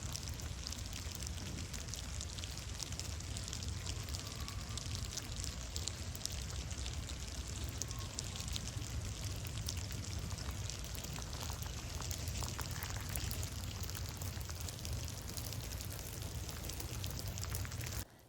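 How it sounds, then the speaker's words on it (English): Melting ice and snow dripping steadily off trees under a clear sky, a dense rain-like patter of countless drops forming an even, continuous hiss throughout, with no voices. "So if you can hear that, it sounds like rain. Of course, that's everything melting off of the trees."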